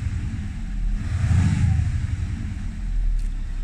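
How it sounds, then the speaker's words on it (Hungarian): An Audi S7 engine is revved to about 2000 rpm, a deep rumble swelling near the middle and easing back to a steady idle, close and fairly quiet. "Most 2000-ig pörgetem."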